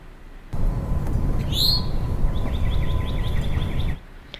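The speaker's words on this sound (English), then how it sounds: "this is birds and wind chimes." A prerecorded birds-and-wind-chimes sound effect previewed in Soundtrap: a steady rushing wind bed with a bright bird call early on, then a string of quick repeated chirps, stopping abruptly.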